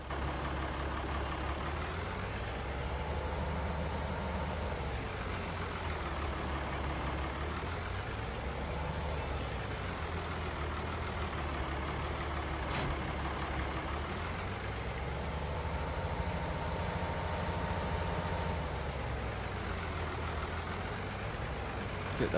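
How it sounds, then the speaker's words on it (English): A tractor engine in the Farming Simulator 2019 game runs steadily, its drone rising and falling in pitch as the throttle shifts, with a faint periodic clicking and no voices. "I'll get the other tractor ready"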